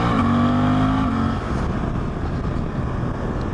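A 2024 Suzuki GSX-8S motorcycle pulls onto a highway, its engine loud and close, climbing in pitch under hard acceleration for about a second before settling into a steady, rushing drone with wind noise.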